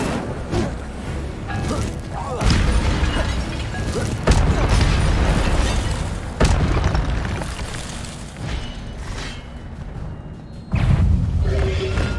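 In Hogwarts Legacy gameplay, the Incendio fire spell bursts out as loud booming, crackling blasts that repeat every few seconds over dense game sound effects.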